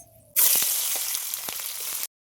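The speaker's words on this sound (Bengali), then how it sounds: "পেঁয়াজটা ভাজা হয়ে গেছে" Onions hit hot oil with whole spices for a chicken roast, bursting into a sudden loud, bright sizzle after a quiet moment that crackles steadily before stopping abruptly.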